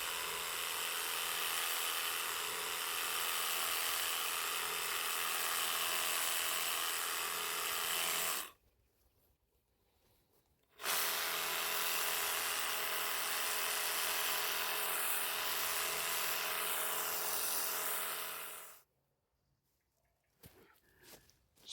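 An electric hedge trimmer cuts a box hedge with a steady high buzzing drone, running for long stretches that stop briefly twice.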